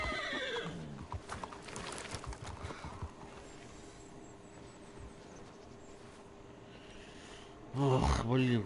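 A horse whinnies at the start, followed by faint clip-clop of hooves, with a second loud, close neigh bursting in near the end over a quiet background.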